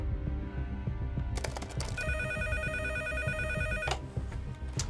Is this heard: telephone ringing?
yes